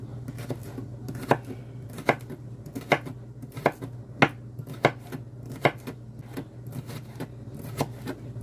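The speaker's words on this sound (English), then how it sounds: "Now that I finished cutting up my bitter melon" A knife chops bitter melon on a cutting board, sharp distinct knocks landing in a loose, uneven rhythm about once per second, close and clear over a low steady hum.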